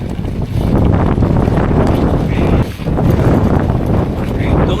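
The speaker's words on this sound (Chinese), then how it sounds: "冬天就怕刮风，刮风呀，一刮风就冷。" Strong, cold winter wind gusts loudly across a mountain hike near Genhe, roaring almost continuously with one brief lull midway; a voice talks faintly beneath the gusts.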